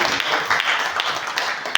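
Church congregation clapping during a Sunday worship service, a steady dense wash of applause filling the room for a couple of seconds with a sharper clap near the end.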